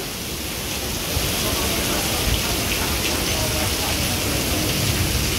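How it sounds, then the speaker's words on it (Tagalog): Heavy rain pours steadily in a dense, continuous hiss, growing slightly louder after the first second and holding without pause. "Sobrang lakas ng ulan no."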